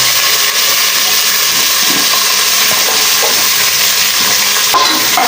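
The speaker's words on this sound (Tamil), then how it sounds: "வெங்காயத்தை போட்டுக்கலாம்." Onions frying in hot oil with mustard seeds and curry leaves, a loud, steady sizzle filling the pan with occasional stirring scrapes, close up and without speech.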